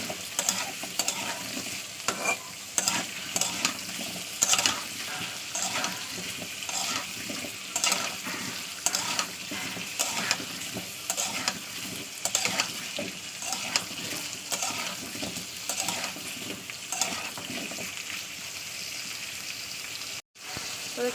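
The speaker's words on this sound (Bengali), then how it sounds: "তেলের সঙ্গে পেঁপে আলুটাকে প্রায় 1 মিনিট ধরে ভালোভাবে করবো" Papaya and potato pieces frying in oil in a home kitchen pan before spices go in, a loud continuous close sizzle with crackling and occasional stirring scrapes, no talk.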